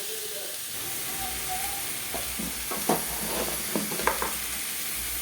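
Tomatoes sautéing in a pan for kichadi, a continuous soft sizzle and hiss with scattered stirring scrapes and clicks up close, no talking.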